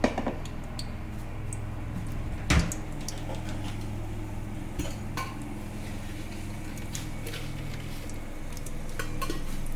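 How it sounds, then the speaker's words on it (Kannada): Whole spices, pineapple flower, marathi moggu, cardamom, kasuri methi and a bay leaf, frying in a pan for sorekai palav, giving a steady low sizzle with scattered ticks and one sharp clank of stirring near the start. "ಅದು ಫ್ರೈ ಆಗುತ್ತಿದೆ"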